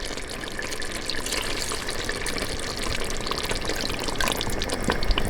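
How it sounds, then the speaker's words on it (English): Unsalted chicken broth pours steadily into a pot of Jamaican oxtail stew, a continuous close splashing rush that holds for several seconds and swells slightly toward the end, with no talking. "1 cup of chicken broth. You can add beef broth. I'm adding unsalted."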